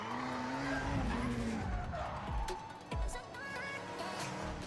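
Car tires skid and squeal in Forza racing game footage, loud screeching slides and engine roar sweeping across a few seconds with quick pitch shifts, no talking.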